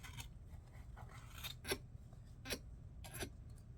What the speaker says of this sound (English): So we're just going to go straight down the middle, and we're just going to cut.